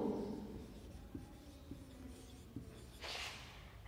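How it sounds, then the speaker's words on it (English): A pen or pencil writing the names of fruits by hand, with soft scratching strokes and small taps close by in a quiet room, ending in a brief firmer scratch. "we are going to write down four names in fruits"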